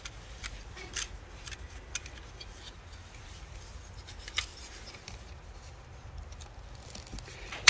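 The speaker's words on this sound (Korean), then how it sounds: "그래서 절단면을 깨끗하게 잘라줍니다" Knife slicing cleanly through a bonsai branch to leave a smooth cut, a few faint, close, short cutting and scraping ticks scattered over a quiet background, with no talking.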